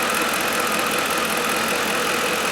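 A Ford F150 with the 4.6 3V engine idles steadily after a repair, a constant even hum with no tapping, close and unbroken throughout.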